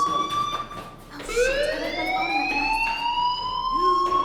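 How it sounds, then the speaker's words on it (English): A fire alarm sounds in the video game Life is Strange, a loud electronic tone that sweeps upward and holds steady, ringing continuously with a brief dip partway through. "Hey, do you hear that fire alarm?"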